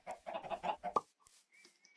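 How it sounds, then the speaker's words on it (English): Minecraft chickens clucking in a short burst of several quick, close clucks, followed by a brief pause and a few softer chirping tones, with no speech. "I've got all the chickens that apparently just like to bunch up in the corners"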